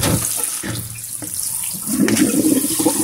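Steady running cold tap water splashes continuously over blanched water parsley (minari), growing fuller and heavier toward the end, with no talking.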